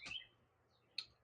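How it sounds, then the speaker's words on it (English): Faint outdoor birdsong on a lush property: a short high chirp at the start and another brief call near the end, quiet and somewhat distant over a low hum. "My God, birds are singing."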